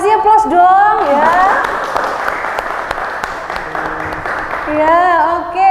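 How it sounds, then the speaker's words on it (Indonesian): An audience claps for a presenting group at a teachers' classroom session: steady, dense applause lasting a few seconds, with voices speaking over it at the start and end. "Kasih aplaus dong ya."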